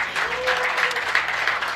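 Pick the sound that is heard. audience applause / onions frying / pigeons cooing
audience applause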